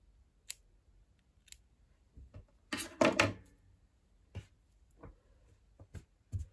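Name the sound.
scissors cutting embroidery thread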